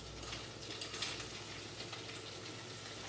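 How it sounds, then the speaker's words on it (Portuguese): Frozen peas hitting a frying pan with seared canned salmon, a soft, steady sizzle with faint crackles and stirring, fairly quiet and continuous. "Ervilha congelada já vem direto aqui para a frigideira"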